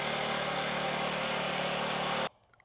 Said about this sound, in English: that's the sound of the pump working right there.